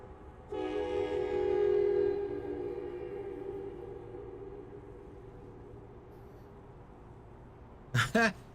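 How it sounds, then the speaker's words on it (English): An Amtrak train in American Truck Simulator sounds a long, loud, multi-tone horn blast that fades slowly, followed near the end by a short double burst of another tone, with no speech. "Where is that train? There it is. It's an Amtrak."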